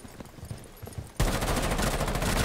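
Sudden loud automatic gunfire bursts in partway through after a quieter stretch, a dense, rapid stream of shots from a Rainbow Six Siege match, close and sustained to the end.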